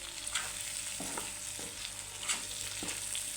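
A spatula stirs cooked cabbage and cauliflower in a pan, making a soft continuous sizzle broken by a few distinct scraping strokes about every half second to a second, with no voices.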